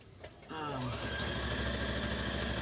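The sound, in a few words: sewing machine back stitching fabric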